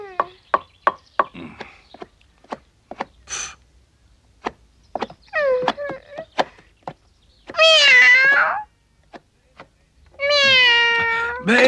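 A cartoon cat in a Pinocchio episode meows in two long, drawn-out bursts near the end. Sharp knocks and chopping clicks come before them, and there are quiet pauses in between.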